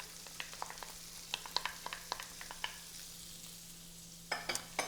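Onions sauté in a pan with a faint, soft sizzle, punctuated by a run of light utensil clicks and scrapes from stirring over a low steady hum.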